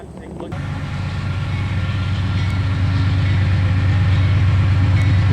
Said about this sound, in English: Here comes the train right through the graveyard.